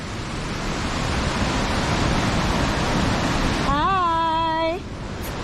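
A river near Kasol in Himachal Pradesh flows with a loud, steady broadband roar close at hand, and a brief tonal whistle or call cuts across it near the end.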